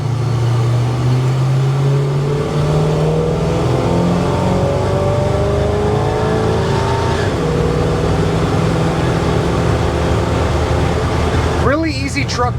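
A 1970 GMC K10 pickup truck drives on the road, its engine droning loud and close with rising and falling revs, plus road and wind noise throughout.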